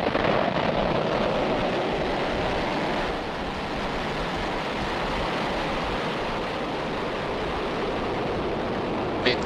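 A SpaceX Falcon 9 rocket lifts off, a broad, steady roar of rumbling noise that fills the whole stretch without letting up, with no voices over it.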